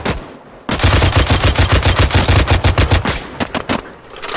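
Friendly .50 caliber machine gun fires long, loud, rapid bursts up close after a brief quiet start, the heavy rhythmic reports tapering into slower, scattered shots near the end.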